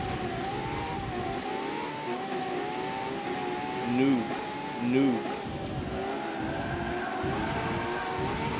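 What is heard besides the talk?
race car driving on track in video game Forza Motorsport 7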